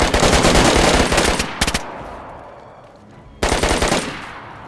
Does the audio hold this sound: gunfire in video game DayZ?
yes